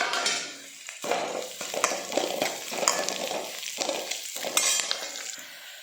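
Dried curry leaves fry in hot oil in a pan, giving a close, irregular crackle and sizzle broken by repeated stirring scrapes and light clinks of a utensil against the pan.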